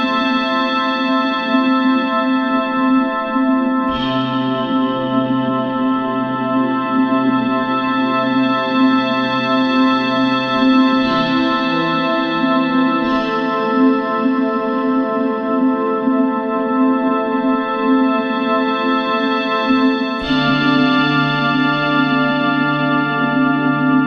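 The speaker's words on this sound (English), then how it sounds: "I called this sound Fossile because it reminds me of the good old days of analog synths" Korg Kross 2 synthesizer playing an analog-style patch with background noises and a very slow automatic filter sweep; long sustained chords shift every few seconds, loud and steady, with no talking.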